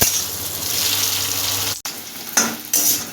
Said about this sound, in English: mom is frying the boiled baby potatoes